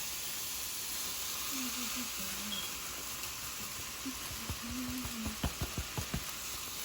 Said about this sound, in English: The meat is in the pan.